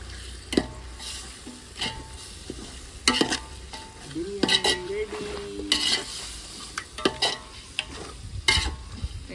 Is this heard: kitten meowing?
no